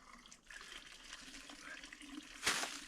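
Steady running water of a stream in northern Alberta burbles and splashes nearby, a continuous broadband wash with a brief louder surge near the end.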